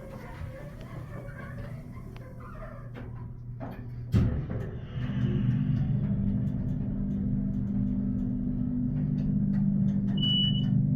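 Otis Lexan hydraulic elevator at a public library: a sharp door-like clunk followed by the hydraulic motor starting up, a steady low droning hum that continues to the end, with faint mechanical clicks.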